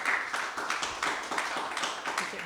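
Scattered applause from a small audience at a talk, a brief burst of clapping with uneven rhythm over roughly two seconds, moderately quiet and heard alone without voices.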